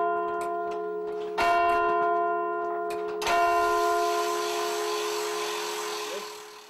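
Inside the Winwick Church clock mechanism, a cam lifts an arm: light ticking gives way to two heavy clunks, each followed by a sustained metallic ringing tone that slowly fades.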